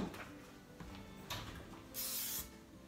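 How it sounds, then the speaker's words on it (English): Cooking spray, Pam or olive oil, is sprayed onto a pan in a home kitchen, with a few quiet hissing bursts, the longest and strongest near the end. "You're going to spray the pan with a Pam or olive oil spray,"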